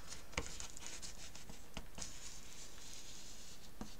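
Glued paper is pressed down and smoothed by hand while binding a scrapbook album, giving soft close rubbing and patting strokes with a few sharper taps, quiet and without talk.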